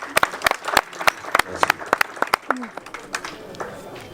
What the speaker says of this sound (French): J'aimerais qu'on applaudisse très fort.